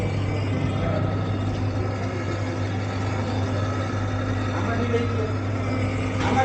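A Yamaha motorcycle engine runs steadily in first gear with the clutch pulled in, a loud, close, even drone with a low constant hum and no break across the whole stretch.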